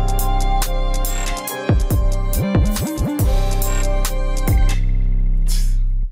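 UK drill beat made in FL Studio with a deep 808 bass gliding up and down between notes in a sliding melody, playing loud and continuous over a steady beat.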